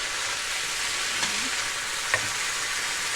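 Onions frying in a hot pan with bacon and ginger for Asian-style green beans, a loud, steady sizzling hiss with a couple of faint clinks.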